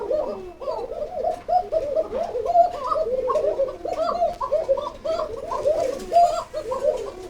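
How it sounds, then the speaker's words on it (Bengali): Koka pigeons, a Bengali fancy breed kept in cages on a farm, coo continuously in an overlapping chorus of rolling, throaty calls, close and fairly loud, with no talking. "প্রতিটা কোকাই আমার কাছে প্রচন্ড পরিমাণ ডাকবে"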